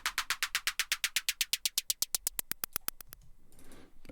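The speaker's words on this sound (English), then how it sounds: "The pitch envelope sounds like this." A snare roll in Ableton Live with a pitch envelope effect, fast evenly spaced hits that slow and thin out as the pitch sweeps, ending in a brief noisy swell.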